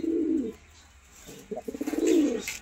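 Golden Eye and Green Eye pigeons, a black-bead male and a female, give two soft throaty coos close by, the second longer and pulsing, with quiet pauses between.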